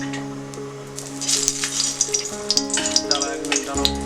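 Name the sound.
stuffed bitter gourd (karela) frying in oil in a wok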